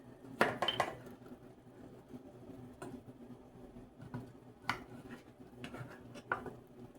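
Stuffed mushrooms are lifted out of a buttered pan onto a plate: soft, scattered clinks and taps of utensil against metal pan and dish, quiet and sparse, with no talking.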